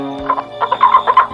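A hen in a storybook setting clucks in a quick run of short, bright calls, close and clear over a steady sustained musical drone.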